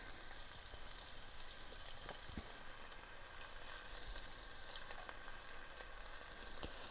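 Flour-breaded venison drops into a hot pan of oil and fries with a steady, dense sizzle and occasional pops, close and even throughout.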